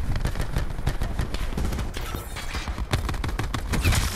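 Rapid machine gun fire in the shooter game Call of Duty: Black Ops 4, a dense, continuous stream of loud shots with a few brief gaps, close and dominant.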